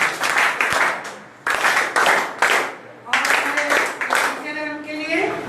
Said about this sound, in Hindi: अब आप इनके लिए जिन्होंने बोला नहीं उनके लिए 3 बार जोरदार तालियां।